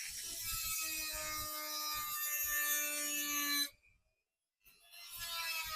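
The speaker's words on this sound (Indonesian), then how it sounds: "Ini lagi dicoak." Plastic eyebrow light trim for a Honda Vario motorcycle is notched with a tool, giving close, steady scraping and rasping strokes that stop abruptly for about a second before resuming.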